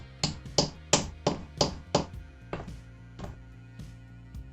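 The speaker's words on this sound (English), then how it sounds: "I also hammered some nails into the wood to make sure they stick properly" A hammer drives nails into a wooden rover chassis with six loud, evenly spaced blows, then a few softer, slower taps trail off, close and without talk.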